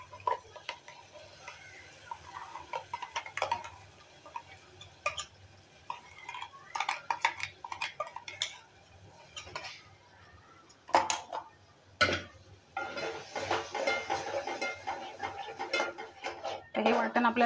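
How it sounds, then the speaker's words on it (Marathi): A ground coconut and onion masala paste sizzles in a pan while it is stirred for a traditional Konkani godi dal: soft frying crackle with intermittent utensil scrapes and clinks, under someone speaking throughout. "हे वाटण आपल्याला थोडा वेळ परतून घ्यायचं आहे"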